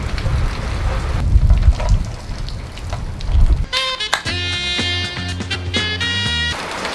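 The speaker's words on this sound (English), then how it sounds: "While it's absolutely pissing down" Heavy rain pours down hard outdoors, a loud, close roar with low rumbling gusts for about half the time, then gives way to steady tonal sounds.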